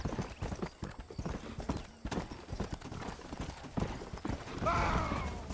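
Horse hooves clip-clop steadily in Red Dead Redemption as a spooked horse moves about, busy and fairly loud, with a whinny near the end.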